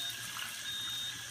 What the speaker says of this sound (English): fill up the tomatoes with the strong acidic water